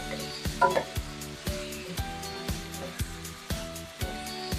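Chicken for chicken curry sizzles in a pan, close up, while a spoon scrapes and stirs in a regular rhythm of sharp strokes about every half second.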